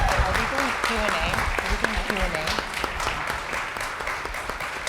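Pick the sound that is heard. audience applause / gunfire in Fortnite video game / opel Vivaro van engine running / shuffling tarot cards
audience applause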